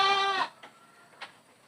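A single goat bleats, clear and fairly close, on the Sarumpun Makmur goat farm, then fades into faint clicks and quiet background sounds.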